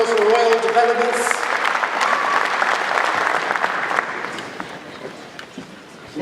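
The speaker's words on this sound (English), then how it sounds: "Another round of applause for Royal Developments." An audience at a presentation at an ICT facility bursts into applause that starts loud with a voice over it, then thins and fades toward scattered claps by the end.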